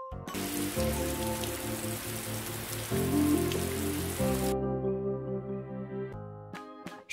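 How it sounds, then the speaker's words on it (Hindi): Steady rain pattering on a surface blends with a gentle melodic backing tune, continuous and moderately loud, cutting off near the end before a few final taps. "व से वर्षा।"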